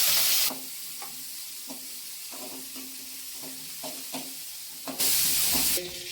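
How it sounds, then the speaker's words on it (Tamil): Garlic with small shallots and large onions sautéing in a pan, a steady soft sizzle broken by rhythmic spatula scrapes and stirs, louder hissing bursts at the start and end, no speech. "அது கூடவே நம்ம இந்த சின்ன வெங்காயம் இந்த பெரிய வெங்காயம் எல்லாம் போட்டு நல்லா வதக்கிக்கலாம்"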